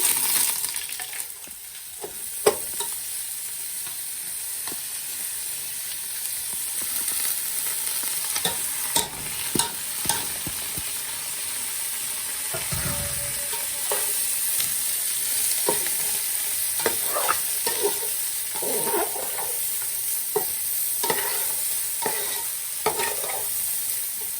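Rice for pulao crackles and sizzles steadily in a hot pan, with repeated stirring scrapes and occasional sharp clinks of a spoon on the pan, close and continuous with no talking.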